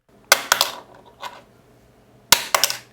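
A cap dropped onto a hard surface, picked up by a lapel mic: two bursts of bright clattering impacts, each a sharp hit followed by a few quick bounces, close and clear with no talking.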